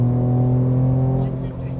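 A Ford Ranger Raptor pulls away hard from a launch control start, its engine droning loud and steady with a deep, harmonic tone that eases slightly near the end, under a voice speaking.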